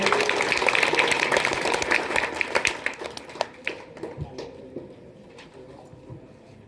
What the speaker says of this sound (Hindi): वर्षा कुमारी के लिए भी ताली बजनी चाहिए।